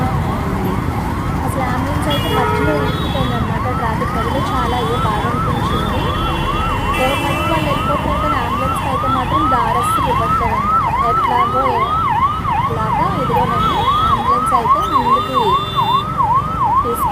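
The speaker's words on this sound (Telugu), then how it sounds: "అంబులెన్స్ అయితే ట్రాఫిక్లో ఇరుక్కుపోయిందండి అది ఎంత సైరన్ వేస్తున్నా కూడానండి" An ambulance siren stuck in a traffic jam wails in a fast, repeating rise-and-fall cycle, loud and close, over a constant rumble of surrounding traffic.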